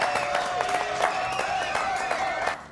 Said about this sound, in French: Applaudissements s'il vous plaît, public adoré